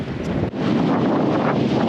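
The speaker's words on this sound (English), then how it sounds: "It's offensively windy up here." Strong wind buffets the microphone at a hilltop lookout in the Flinders Ranges, a loud continuous roar with gusty swells throughout and no speech.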